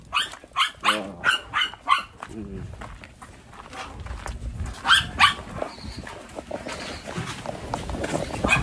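A territorial dog barks in a quick run of sharp, close barks, then growls and snarls more quietly while people talk nearby and footsteps shuffle.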